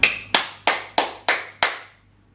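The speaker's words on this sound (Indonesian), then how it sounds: "Mari kita sambut dengan tepuk tangan" Six separate, sharp hand claps in a slow, even rhythm, each ringing briefly before the next, over a faint low hum; no voices.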